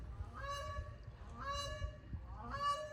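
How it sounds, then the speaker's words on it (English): Geese-like birds honk in a repeated pattern of three nasal calls about a second apart, moderately loud over a low background rumble. "What an interesting noise these birds make."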